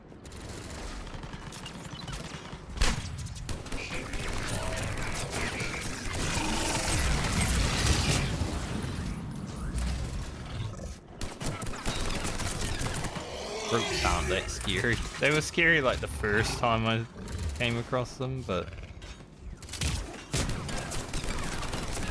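Rapid automatic gunfire in the Mass Effect 3 video game, dense bursts and booming impacts layered with explosions while someone talks over the combat.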